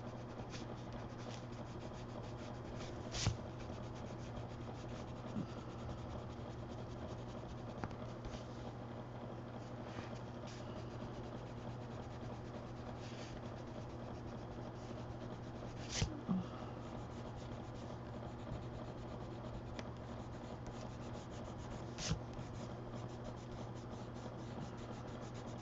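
Colored pencil rubs softly back and forth across paper while smoothing and blending, a faint, steady scratchy texture with a few light taps of the pencil.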